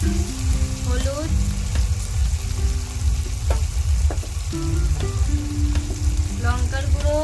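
Salt, turmeric and chilli powder frying with softened onion and tomato in a pan give a close, steady sizzle with occasional stirring scrapes, under background music.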